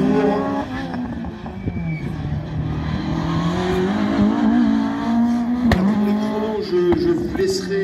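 An F2000 single-seater race car at a slalom event in Ancenis, its engine droning steadily with rising and falling pitch as it revs through gear changes, loud and fairly close over crowd and ambient noise.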